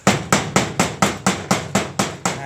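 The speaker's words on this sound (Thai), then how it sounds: "แล้วก็เคาะ นะฮะมันอาจจะมี ค้อนยาง หรือว่าไม้ที่เราใช้เคาะอะไรก็ได้นะฮะ" About ten rubber mallet taps hit a floor tile being laid on mortar in a steady, quick rhythm, each one a dull thud, close up with no talking.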